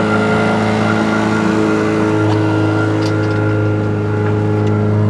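A boat's outboard motor drones steadily and loudly, pushing the boat along at around six knots with an even, unbroken engine hum and faint water wash, no talking.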